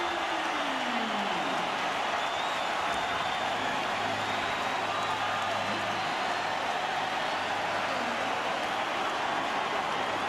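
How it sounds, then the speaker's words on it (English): A packed NBA playoff arena crowd at a Timberwolves-Nuggets game roars in a dense, continuous wall of cheering that stays loud and steady throughout, with faint tones threading underneath. "And this crowd, if you never thought they could get louder, guess again."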